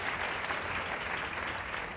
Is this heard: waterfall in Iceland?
no